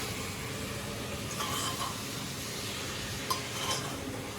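Mutton gravy with onions and coriander stems being stirred in a pan, giving a steady soft scraping and occasional clinks of a utensil against the metal, with faint sizzling underneath.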